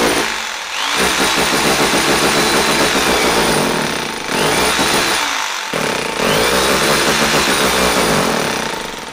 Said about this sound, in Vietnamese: Mình test chức năng khoan bê tông cho anh em xem.